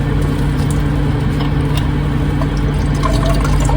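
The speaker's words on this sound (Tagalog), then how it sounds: "So, butangan akong tubig kay naa pa may bilin mga kiguars." Water is poured into a pot to cook leftover kiguars, making a steady liquid fill sound up close over a constant background hum, with no talking.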